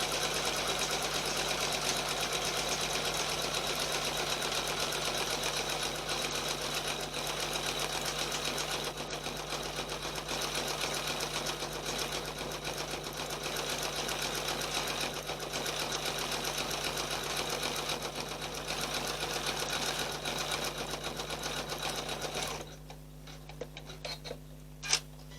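An embroidery machine overstitches the closure of a mug rug with a fast, steady mechanical chatter that runs for about twenty seconds, then stops, leaving a few faint clicks and handling sounds.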